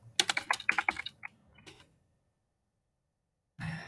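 Quick run of computer keyboard keystrokes while writing Python code, a close, crisp burst of clicks that stops and leaves a pause before another brief sound.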